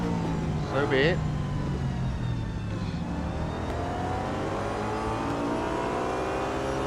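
Audi A5 DTM (2012) race car in the Real Racing 3 mobile game, its engine droning steadily and close throughout, with pitch sweeps as it accelerates and shifts gears. A brief voice-like sound rises over it early on.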